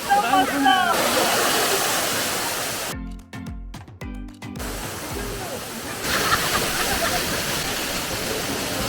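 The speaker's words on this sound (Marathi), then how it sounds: "या धबधब्याचा आवाज तर येतच असणार" Steady rushing roar of the Kasarvadavali hidden waterfall close by, broad and hissing, briefly interrupted partway through by a louder burst of noise.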